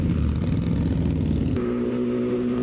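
A loud vehicle engine roars past on the road near a rider on a Continental GT 650 motorcycle, a dense rumbling drone that shifts to a steadier, lower hum as it moves by.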